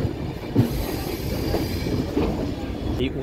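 The Kanchan Kanya Express pulls out of Bardhaman Junction with a steady rumble of wheels on rails, brief squeals and clacks over a continuous rolling roar from inside the carriage.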